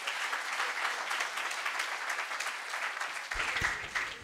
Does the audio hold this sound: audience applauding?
yes